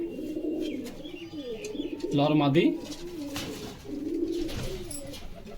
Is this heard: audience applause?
no